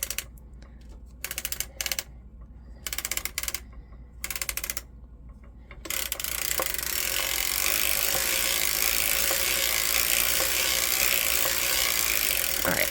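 Circular sock knitting machine cranked by hand: bursts of rapid mechanical clicking and ratcheting stop and start, then settle into a steady continuous whirring clatter.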